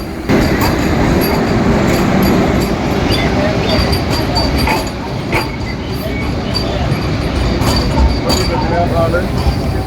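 Loud, steady rumble of a moving train with rattling carriages and occasional metallic clinks, continuous throughout without letup.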